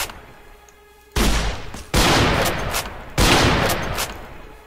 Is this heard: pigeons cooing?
no